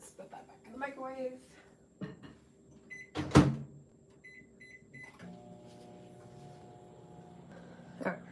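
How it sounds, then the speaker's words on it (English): Food is set back into a microwave oven while caramel is being made: a sharp thud of the door closing, then button beeps and the low steady hum of the oven running, with a person talking early on. "let's put that back in the microwave"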